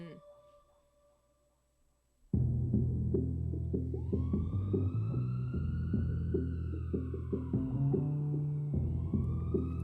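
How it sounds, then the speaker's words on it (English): Police sirens wail in rising and falling glides over a loud, heavy music track with a throbbing beat, which bursts in after a quiet opening couple of seconds. "You hear the sirens?"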